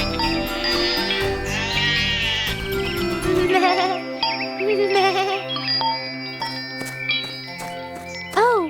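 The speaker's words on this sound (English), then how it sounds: "she heard the goats with bells around their neck" Goats wearing neck bells bleat repeatedly in a cartoon scene, wavering cries over light bell tinkles and a musical backing.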